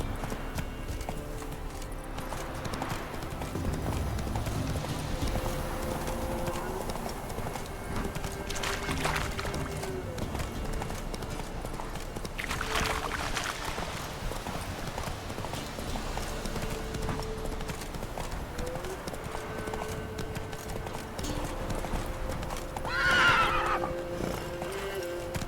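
Horse hooves clip-clopping at a steady gallop in The Witcher 3, with occasional neighs and whinnies, loud and continuous over a bed of ambient outdoor game sound.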